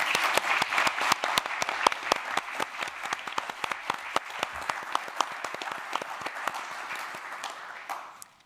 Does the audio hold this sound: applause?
yes